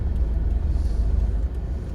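A car turns at a roundabout during a driving lesson, giving a steady low engine and road rumble from inside the cabin, continuous and fairly loud, with no talking.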